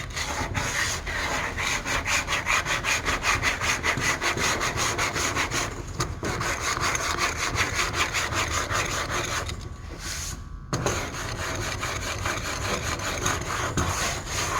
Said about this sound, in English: You gotta let the sandpaper and the block do the work.